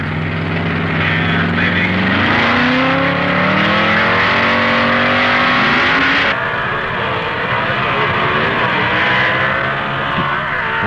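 A 1955 Chevy C-modified production drag car thunders at full throttle on the strip, its engine note loud and close, climbing in pitch through the gears under a constant roaring drone.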